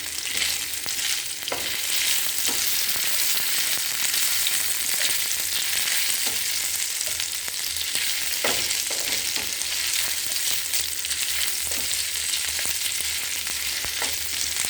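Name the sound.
frying green chillies in a pan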